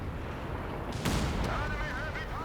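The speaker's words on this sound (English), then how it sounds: "Artillery strike underway." Artillery strike landing in Company of Heroes 3, a sharp distant blast followed by a second thud, heard faintly over a low rumble of battle noise.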